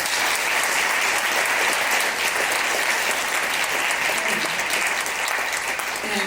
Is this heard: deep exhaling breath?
no